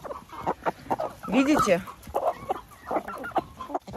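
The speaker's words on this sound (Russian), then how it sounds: "Вот так вот куры любят семечку подсолнуха." Several chickens cluck and squawk nearby while pecking at sunflower seeds, in uneven bursts, with a person speaking briefly partway through.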